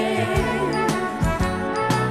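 A 1970s British television game show theme tune for Mr. and Mrs. plays as bright, tinkling instrumental music with sustained chords and several sharp accented hits, heard alone and at steady volume.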